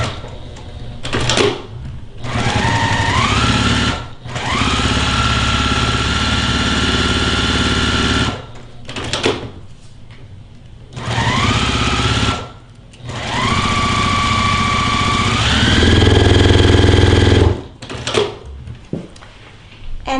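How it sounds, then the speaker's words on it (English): A sewing machine stitching fabric at high speed, a loud steady whirring run that stops and restarts several times with short pauses between bursts, close and without talk. "I'm gonna sew on these 2 lines, and I'm gonna sew a little bit towards the center. And I'm just gonna sew really fast"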